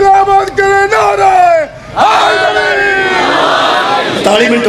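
A packed majlis crowd in Imamia Colony, Shahdara, Lahore roars a religious naara in unison, loud massed voices swelling, briefly dipping, then surging again into a sustained collective shout.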